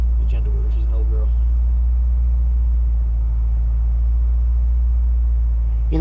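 A 1995 Acura Integra GSR engine hums as a steady, loud, low rumble while the car is driven, with brief voices near the start.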